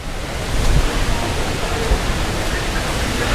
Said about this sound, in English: it's very windy just in here